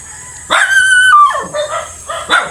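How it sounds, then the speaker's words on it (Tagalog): A dog near a pig enclosure in a wooded area lets out a loud, drawn-out bark and then a couple of shorter yips, close by with no one talking. "May mga aso."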